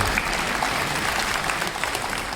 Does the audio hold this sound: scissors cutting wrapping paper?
no